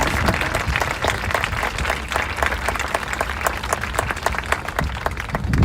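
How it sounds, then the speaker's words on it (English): A large audience at a remembrance vigil gives a sustained round of applause for a family, dense clapping filling the whole stretch at steady loudness with no talk over it. "Could we give one more round of applause for Virginia's family?"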